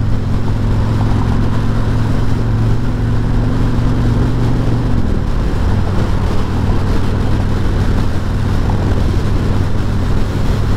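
A 2021 Harley-Davidson Freewheeler trike cruising in fifth gear, its engine a steady low droning rumble that dips in pitch midway, loud and continuous beneath wind noise.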